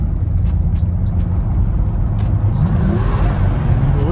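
Porsche Panamera with an opening exhaust, revving close by in a steady low roar with a rising pitch sweep toward the end.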